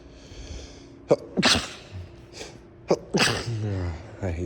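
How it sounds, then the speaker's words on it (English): A person sneezes loudly indoors at a courthouse, two sharp sneezes with breathy build-ups, followed by a sigh and a short voiced exhale, heard close up. "I hate sneezing."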